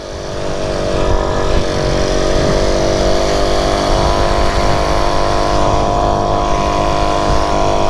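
A 50cc petrol pocket bike engine revs hard and steadily for about eight seconds, a loud, close, continuous buzzing drone with no pauses.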